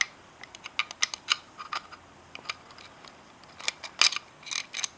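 A screw is driven by hand into an AR-15 pistol grip, producing a run of small, close metallic clicks and ticks at an irregular pace, quiet at first and then denser and sharper near the end.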